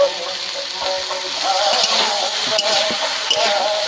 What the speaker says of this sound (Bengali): সমস্ত মশলা একসঙ্গে ভালো করে কষাবো।